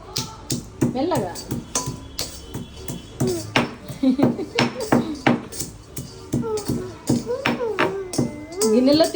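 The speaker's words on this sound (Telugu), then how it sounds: "దంచిన వెంటనే ఇంకా దంచాలి" A child pounding food in a bowl in a home kitchen, repeated sharp knocks and clinks of metal on metal in an uneven rhythm, with people talking throughout.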